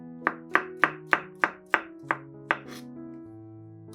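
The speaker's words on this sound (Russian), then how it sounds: "200 грамм шампиньонов моем и нарезаем сначала пластинками, а затем режем небольшими кубиками." Eight sharp knife chops strike a cutting board at a steady pace, dicing button mushrooms, then stop, with soft background music continuing underneath.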